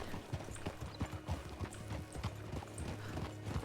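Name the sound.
horse hooves clip-clopping in RedM video game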